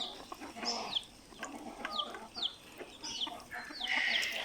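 Chinese ducks and local chickens cluck and squawk in a run of short, bright calls while eating their midday feed of rice mixed with feed, fairly close with no talk.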